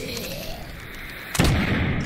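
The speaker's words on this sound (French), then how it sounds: "L'explosion elle est magnifique!" An explosion from the VR video game Shadow Legend bursts in sharply near the end after a quieter stretch of game ambience, then leaves a loud rumbling tail.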